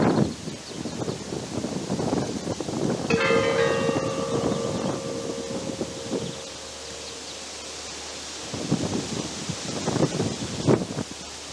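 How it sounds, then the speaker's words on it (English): A single bell at a Belarusian World War II memorial rings out with a clear, sustained metallic tone that fades over several seconds, heard outdoors amid wind and rustling ambience. "each one of them has a bell in it, and the bells go off every 30 seconds"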